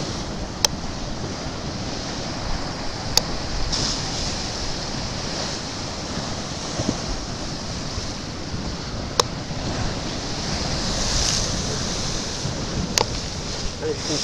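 Ocean swell rolling in at Filey beach in England, a steady broad wash of surf and wind that holds throughout with faint occasional clicks and no talking.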